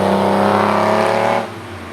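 A Lamborghini Countach heard from the cabin while driving, its engine giving a loud steady roar with strong low harmonics that drops in intensity after about a second and a half as the driver eases off.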